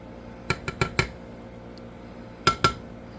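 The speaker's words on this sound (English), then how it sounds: "Now, I'm going to take my tongs and place all the meat." Metal tongs clink against a plate or pan while meat is placed onto bread for a sandwich: four quick light metallic taps, a pause, then two sharper clinks, close and clear with no talk.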